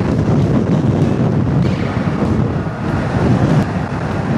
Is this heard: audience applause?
no